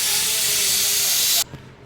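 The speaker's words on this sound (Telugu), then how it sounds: "ఇక 5 విజిల్లు కంప్లీట్ అయినాయి" Pressure cooker whistling while cooking cucumber dal, a loud, close jet of hissing steam with a faint tonal whistle that cuts off abruptly after about a second and a half, followed by a small clunk.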